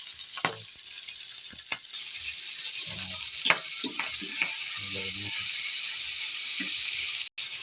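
Pork with garlic, onion, tomato and green chili frying in oil gives a continuous hiss, with scattered stirring scrapes and clacks of a utensil in the pan.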